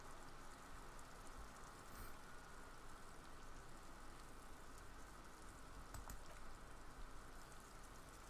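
Steady rain falls throughout in the game Disco Elysium, a constant hissing wash of drops on surfaces, even and unbroken from start to finish with no speech.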